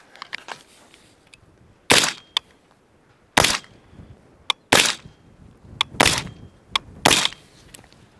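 Five suppressed 5.56 rifle shots through a Hux suppressor on a 10.5-inch barrel, sharp loud cracks spaced about a second apart, with faint background noise between them and no talk.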